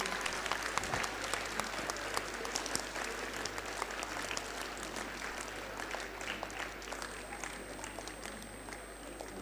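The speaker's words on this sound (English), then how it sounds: "Please give them a loud round of applause." A large audience gives sustained, dense applause for honoured school staff at a stage production's acknowledgements ceremony, steady and loud throughout.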